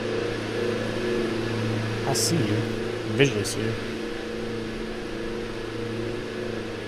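A steady droning hum from a Diamond DA-42 diesel aircraft engine in a flight simulator game runs throughout under a speaking voice, with a few brief clicks and blips on top.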